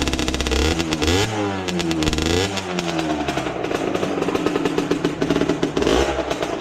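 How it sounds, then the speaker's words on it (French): A 50cc motorcycle engine runs close by, revving up and down repeatedly with rising and falling whines over a rattly, buzzing idle, loud and alone. "je vais vous faire écouter le magnifique bruit que fait ma moto."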